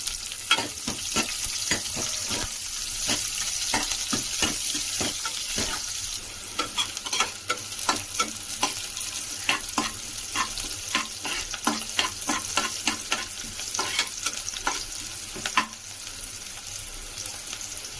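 Onion and curry leaves sautéing in a pan for jackfruit-seed kurma, steady frying sizzle with rapid repeated scrapes and knocks of a stirring spoon throughout, close and moderately loud, no voices.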